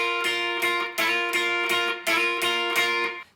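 An electric guitar plays the opening part of a song: bright, clear repeated double-stop strums in short bursts, loud and close, with no talking.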